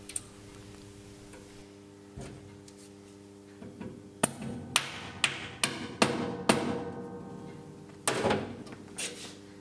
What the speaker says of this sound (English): tap it in place with a soft hammer